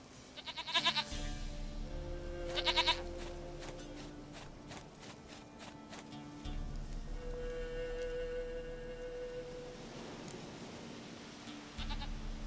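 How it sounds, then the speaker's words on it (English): Goat bleats from The Witcher 3 game audio: several nasal bleats spaced apart, fairly close, over soft ambient game sounds and occasional hoof clops, with no talking. "Goat of mine, dearest, sweetest goat."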